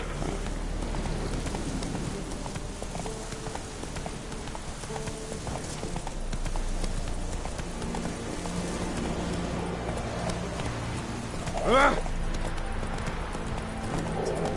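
Geralt's horse Roach gallops in the video game The Witcher 3, a steady, rapid clip-clop of hooves running throughout with a short whinny near the end.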